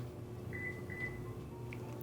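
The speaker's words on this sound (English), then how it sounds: "So let's compare the beep." A Lexus RX 350 gives its lock beep: two short, soft electronic chirps in quick succession, fairly quiet over a low background hum.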